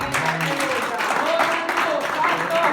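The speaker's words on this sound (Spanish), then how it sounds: "Dale un aplauso al Señor." Church congregation clapping and cheering together in a steady, continuous burst of applause filling the room, with voices and shouts mixed in throughout.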